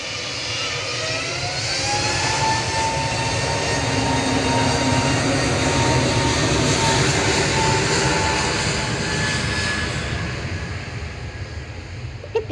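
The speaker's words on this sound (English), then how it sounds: "Departing to Paris Charles de Gaulle is GUZHS A320 Neo" An Airbus A320neo departing Manchester Airport for Paris Charles de Gaulle gives a loud, sustained jet roar with whining engine tones that rises and then slowly fades, alone without speech.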